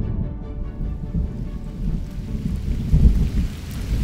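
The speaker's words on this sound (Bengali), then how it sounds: "একেই বলে রিমঝিম বৃষ্টি।" Steady rain pours onto surfaces while low thunder rolls beneath it, swelling to a deeper boom near the end, used as a storm effect in a spoken horror folklore story.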